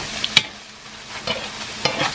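A splash of water hits a hot pan of caramelizing onions, giving a few sharp, brief sizzling bursts with scraping stirs in between, close up and fairly quiet.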